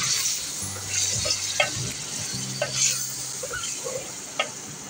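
Roughly chopped ripe red tomatoes go into frying mutton karahi, a steady close sizzle and hiss with scattered stirring clinks and soft thuds.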